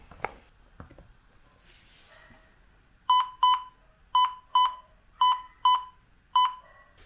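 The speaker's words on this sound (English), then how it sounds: "it made a significantly different noise, a few double beeps, and then this single beep" Electronic beeps from an Acer Swift 5 laptop charging over USB-C sound after a quiet stretch, a few quick double beeps followed by single tones, clear and close.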